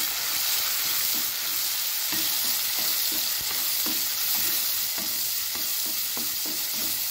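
Chopped tomatoes sauté in a hot pan with a steady, loud sizzle throughout, broken by regular soft scrapes and taps of a stirring spoon, close up and without speech.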